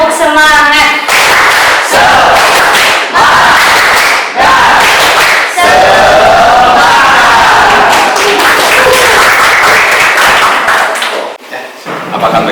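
Rhythmic group clapping from a class of students in an Indonesian classroom during an ice-breaking routine, loud and patterned claps with chanting voices mixed in.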